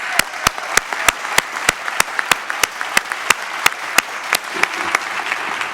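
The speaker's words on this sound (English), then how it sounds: "Can we have one final round of applause for our speakers?" Crowd applause for speakers at a Cleveland business event, with one nearby pair of hands clapping in a sharp, evenly spaced rhythm over a softer, continuous wash of audience clapping.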